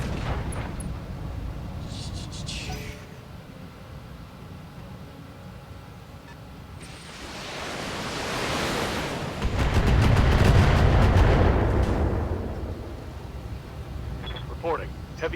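Mech weapons fire and heavy impacts in the BattleTech video game, broad roaring bursts and crackling blasts that swell and fade over several seconds, with a player talking throughout.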